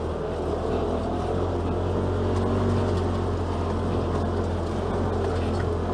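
A 2018 Polaris RZR XP Turbo Walker Evans edition side-by-side drives a rough dirt trail, its engine a steady, loud, continuous drone with low rumble and road noise throughout, no talking.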